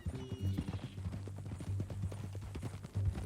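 Horse hooves clip-clopping at a steady walking rhythm in Red Dead Redemption 2, close and moderately loud, with low tones of game ambience underneath and no talk.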